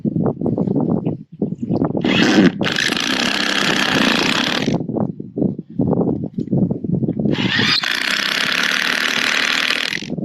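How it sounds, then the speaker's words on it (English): Repeated heavy thumps and creaks as someone bounces on a roof board over a rafter on a curved metal mobile home roof, with loud broadband rushing noise rising in two long stretches. "So I'm bouncing on that board so I know where it is, or that rafter."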